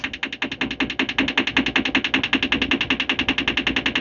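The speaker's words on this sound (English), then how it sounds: "So it seems like the fridge freezer had gone nuts." A loud, close mechanical buzz from a malfunctioning fridge freezer, pulsing rapidly and steadily, about ten throbs a second, like an appliance rattling out of order.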